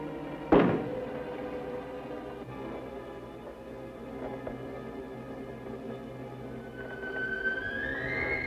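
A single sharp knock on a closet door from inside, one loud thud near the start in a quiet room, followed by low background hum with no talking.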